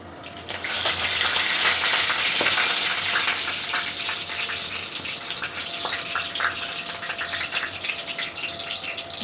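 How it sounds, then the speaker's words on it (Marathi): Cumin seeds and curry leaves sizzling in hot oil for a simple onion- and garlic-free dish, a loud, close, steady hissing crackle that swells early and then settles into an even fizz, with no voices. "तेल गरम झालं असतील तर आपण जिरं टाकू"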